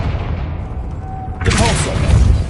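A Confringo spell explosion in Hogwarts Legacy bursts out as a loud, bright blast with crackling debris, breaking in over a low rumbling game background.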